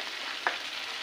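Ginger, cumin and coriander pastes fry in a pan, a soft, steady sizzle with one brief stir-like tick partway through, quiet and with no voices.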